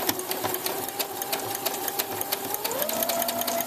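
Sewing machine stitching a crib sheet with the needle set to the left, a steady rapid mechanical chatter running continuously and close, with its pitch shifting slightly near the end.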